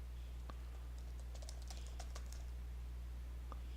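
Scattered keystrokes on a computer keyboard, a few isolated taps and then a quick cluster of clicks, faint against a steady low hum.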